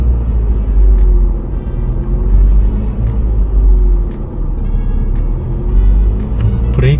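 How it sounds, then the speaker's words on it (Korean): From inside a car during a basic driving lesson, the engine hums as the accelerator is pressed gently toward about 1500 rpm, its tone rising and easing in slow swells over a steady low rumble. "이동해서 악셀 좀 밟아볼게."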